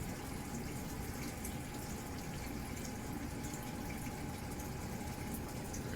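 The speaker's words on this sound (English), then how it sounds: "that green barrel will fill, then it will overflow into this lower tank" Water pours steadily into a green barrel during a 450-gallon aquarium water change, a constant rushing hiss without pause or voices.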